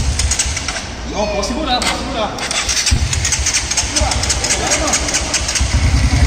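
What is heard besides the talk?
motorcycle engine starting and idling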